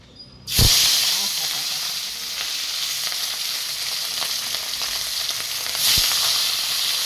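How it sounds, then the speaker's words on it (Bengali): Fish pieces dropped one at a time into a hot pan set up a loud, close, steady frying sizzle and hiss, with a sharp splash at the start and a second flare of crackle near the end. "কড়া গরম হয়ে গেছে, মাছ ছেড়ে দেবো।"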